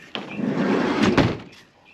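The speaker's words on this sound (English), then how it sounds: "Then the magnets just hold the door shut." A cabinet door in a Promaster camper van conversion swings shut against magnetic closures, giving a soft thump at the start, a brief rustle, and a sharper close near the middle, all heard close up with no talk.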